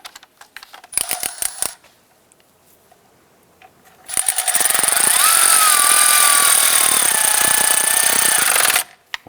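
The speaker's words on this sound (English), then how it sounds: "Install that bolt. Let's go ahead and snug that down." A power tool, likely an impact wrench, drives a bolt on a 2008-2013 Nissan Rogue front CV axle, firing in a short burst, then a longer sustained loud rattling hammer close by, with no talk.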